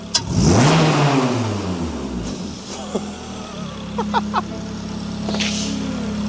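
A Honda Jazz engine revs up sharply through a new exhaust at the start, then settles into a steady, loud idle with a few brief clicks and knocks over the rumble.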